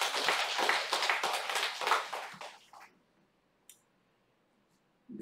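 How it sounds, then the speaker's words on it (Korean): A church congregation claps in praise, a lively crackle of many hands that swells and then stops abruptly after about three seconds, followed by near silence with one brief click. "우리 하나님께 영광의 박수하겠습니다."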